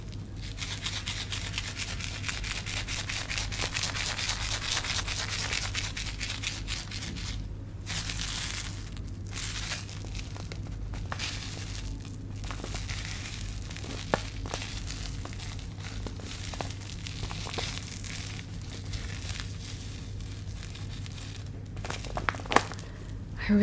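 Paper squishy stuffed with cotton and sprinkled white sugar being squeezed and rubbed close up, a steady run of crinkling, rustling paper with gritty crunching textures for over twenty seconds, no talking.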